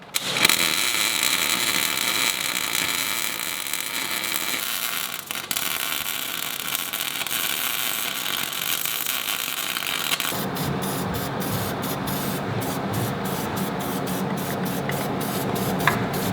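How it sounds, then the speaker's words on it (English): A front trackbar bracket on a vehicle is welded, giving a long steady crackling hiss that breaks into a run of short, rapid bursts near the end. "Now I can totally weld this bracket."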